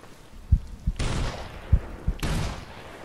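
Gunshots at a cottontail rabbit in the hunting game Hunting Simulator 2: two loud booming reports about a second apart, each preceded by soft thumps and trailing into a long rolling echo.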